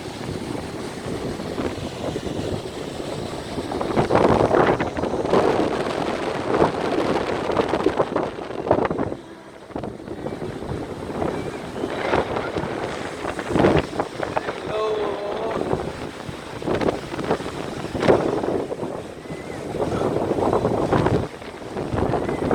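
Strong wind buffeting the microphone over crashing surf at a beach in Naic, Cavite, a rough continuous roar with gusts and faint voices in the background.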